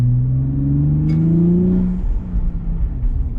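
A Nissan Z RZ34 engine fitted with AMS intakes and its plastic covers removed revs loudly up with a rising whine and tone, then drops off into a rougher, lower rumble, close and alone.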